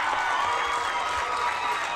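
A crowd at an under-11s rugby grand final cheers and claps in a continuous, fairly loud wash of noise, with some talk mixed in.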